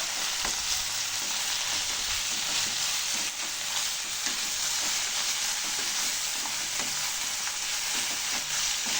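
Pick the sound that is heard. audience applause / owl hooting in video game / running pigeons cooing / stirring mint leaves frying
stirring mint leaves frying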